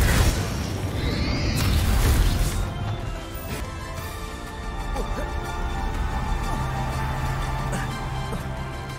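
Spell explosions and crashing combat effects from the video game Hogwarts Legacy, a continuous loud mix of booms, smashes and whooshes over a rumbling game soundtrack.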